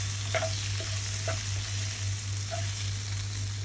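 A home-cooked curry sizzles steadily in a pan, a close, even frying hiss broken by a few light clicks and taps, with no voices.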